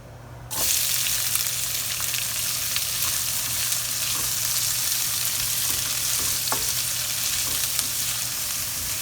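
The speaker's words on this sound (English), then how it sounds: "We will be sauteing this for around 3 to 5 minutes until it turns a little translucent." Chopped red onion and garlic sauteing in a pan, a steady close sizzle that starts abruptly and holds for several seconds, with a few soft scrapes of stirring on top.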